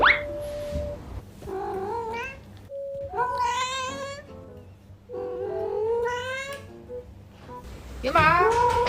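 A cat meows loudly and close by, giving a string of long, drawn-out, rising and falling cries with short pauses between them and no other sounds competing.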